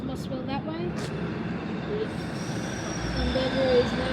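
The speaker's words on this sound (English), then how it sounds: "That train will be going towards Mossvale that way." A train at Bowral station bound for Moss Vale, a steady close rumble of rolling wheels with faint squealing and metallic tones over the rail noise.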